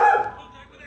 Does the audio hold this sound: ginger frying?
no